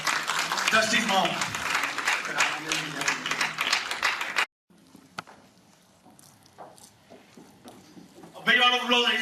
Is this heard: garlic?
no